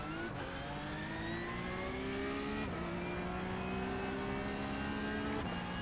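A Porsche Cup car engine revs hard and steadily in the iRacing sim, pitch climbing with brief dips at gear changes, loud and continuous throughout.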